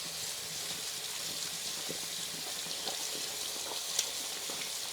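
Tap water runs steadily into a sink while soap funnels are rinsed, a continuous close hiss with a faint clatter near the end and no talking.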